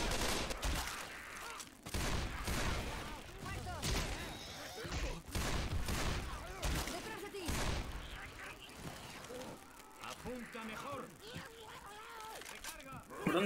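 Gunfire in the zombie shooter Left 4 Dead 2 comes as repeated sharp bursts and rapid volleys, with loud shots scattered through the stretch and voices talking over them.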